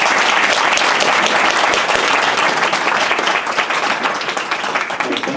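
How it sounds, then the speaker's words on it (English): Audience applause at the close of a renewable-energy panel discussion at a conference, dense sustained clapping from a large crowd filling the room, steady and loud before tapering slightly. "This big applause for you."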